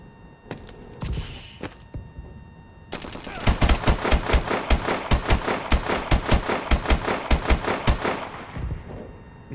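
Rapid-fire rifle in a multiplayer shooter game, a loud close burst of about twenty evenly spaced sharp shots in fast rhythm, preceded by a few scattered clicks and shots.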